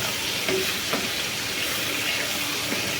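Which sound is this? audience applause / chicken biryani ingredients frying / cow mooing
chicken biryani ingredients frying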